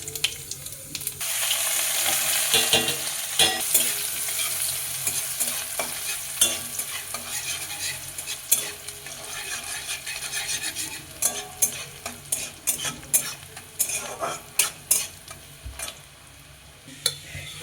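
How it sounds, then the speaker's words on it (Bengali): A tempering of cumin, chilli and onion crackles in mustard oil for aloo dal, a loud continuous sizzle with sharp spluttering pops and stirring scrapes that grow more intermittent toward the end. "আর জিরে দেবো, আর পেঁয়াজ, সেটাই ফোড়ন দেবো"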